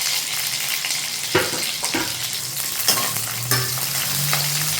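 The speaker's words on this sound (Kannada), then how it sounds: "ಈರುಳ್ಳಿ ಕರ್ಮ ಅಂತ ಇದು ಚೆನ್ನಾಗಿ ಫ್ರೈ ಆಗಬೇಕು." Onion, green chilli and curry leaves frying in hot oil for a tempering, a steady close sizzle with occasional stirring scrapes and clinks of a utensil in the pan, no voices.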